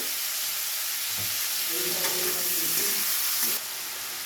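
Prawns lightly stir-fried in a pan give a soft, steady sizzle with a few spatula knocks and scrapes toward the middle, close and moderate in level.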